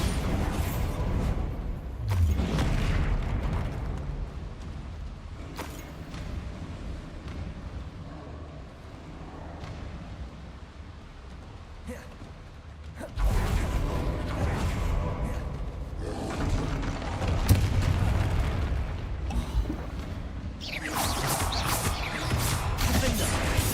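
Bombarda blast spells in Hogwarts Legacy, cast alongside other combat spells: a series of heavy explosive bursts and crashes, some close and loud, others dimmer between them, with a rumbling fight underneath.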